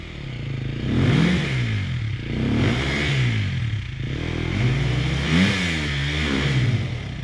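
A car engine revs in a forest as the driver pushes it over a log, repeated rising and falling surges of engine roar with a clattering undertone, close and fairly loud, no talk over it.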